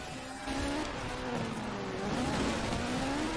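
A Peugeot 205 Forza Edition in Forza Horizon 4 revving hard, its engine note climbing and shifting through gears with brief tire squeal, loud and continuous.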